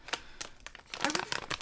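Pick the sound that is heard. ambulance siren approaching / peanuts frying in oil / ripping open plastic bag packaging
ripping open plastic bag packaging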